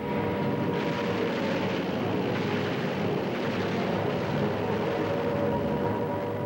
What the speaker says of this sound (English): Alert alarms were blasting, planes droning above, and anti-aircraft guns bombarding the sky.